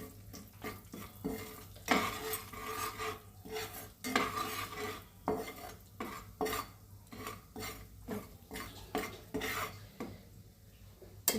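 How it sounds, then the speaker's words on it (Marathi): Goda masala and homemade spice mix fry in a pan for a prawn masala, with a spoon clinking and scraping against the metal in irregular strokes over a faint sizzle, close and fairly quiet. "हा गोडा मसाला टाकत आहे. हे मसाले चांगले फ्राय करून घेऊ."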